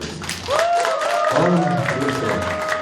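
An audience at a year-end concert gives a round of applause for a guest singer, clapping and crowd noise mixed with a prominent voice talking over it.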